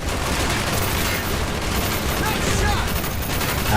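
Rapid gunfire from the Call of Duty Black Ops video game, dense overlapping shots filling the scene at steady loudness, with a voice faintly under it.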